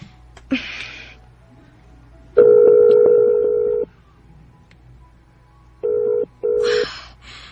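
A phone call's ringback tone sounds close and loud: one long steady tone, then two shorter tones in quick succession, with brief breathy noises between them.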